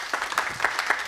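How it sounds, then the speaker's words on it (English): Applause from a conference audience for a speaker at a web technology talk, a short steady patter of clapping at moderate level with no voices over it. "Round of applause for Joe over here."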